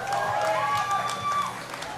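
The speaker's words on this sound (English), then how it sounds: "Give him a round of applause." Crowd at a powerlifting championship cheering and clapping steadily for a nearly 700-pound lift, a dense sustained roar with scattered claps, fairly loud throughout.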